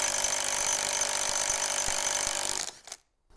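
An Ingco cordless impact wrench in nut bust mode loosening a nut, a loud continuous hammering whir with rapid impacts that runs steadily for over two seconds, then cuts off abruptly into near silence.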